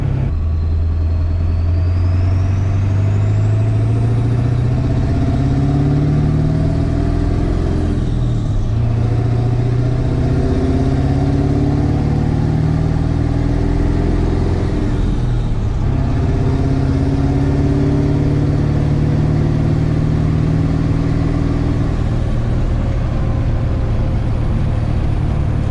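Ford 7.3 diesel pickup with an aluminum intercooler, engine revving under load through several gear shifts, a loud, close, droning rumble that rises and falls repeatedly, with no talking.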